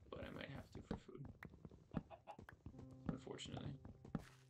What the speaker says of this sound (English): I don't want to kill those chickens, but I might have to for food.